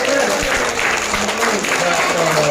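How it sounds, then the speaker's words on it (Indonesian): Children clapping together in a classroom session about fire trucks, a dense, steady patter of small hands lasting a few seconds with voices mixed in underneath. "Tepuk tangan dulu semangat."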